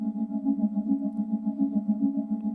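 A pre-recorded drone sample, pitched down four semitones, holds a steady low sustained tone with stacked harmonics and a gentle pulsing swell, quiet and alone without talk.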